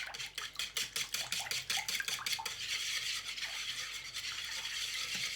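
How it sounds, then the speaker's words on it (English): A wire whisk beats cupcake batter in a bowl, fast rhythmic scraping strokes close up, first in distinct pulses and then settling into a continuous brisk whir. "the whisk that I used before over here, gonna grab it again, and I'm gonna whisk all that up together"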